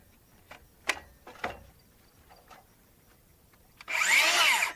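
A DeWalt battery-powered cordless drill bursts into a loud, steady whir near the end, after a few seconds of quiet broken only by scattered knocks and clicks.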